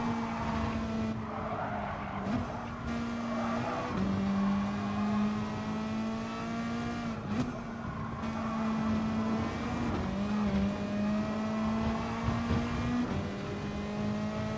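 Race car engine at the Nurburgring in a racing video game, with a Toyota among the cars: a steady droning tone held over the whole stretch, dipping briefly at shifts, with a rough mechanical hum beneath and no talk.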